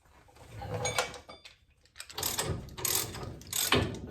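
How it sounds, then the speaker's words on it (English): A ratchet wrench loosens a ball joint on a 1999 Ford Ranger, giving close bursts of rapid clicking separated by a short pause. "let's swap over to a ratcheting."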